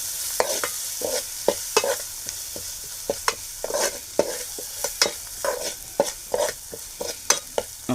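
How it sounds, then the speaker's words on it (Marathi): A spoon scrapes and stirs valpapdi bhaji with field beans and potato in a frying pan, rhythmic clacks and scrapes over a soft continuous sizzle, close and clear, without talking. "आता मी हे ढवळून घेणार आहे."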